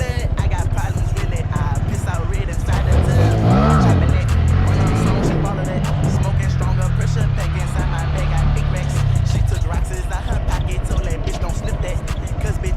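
A Honda Grom motorcycle engine revs loudly and close throughout, with the pitch swinging up and down as the throttle is blipped, while people talk over it.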